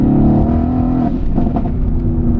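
Mercedes AMG car accelerating hard from low revs, a loud, close engine roar with rising harmonic tones and a brief dip midway as the revs climb again.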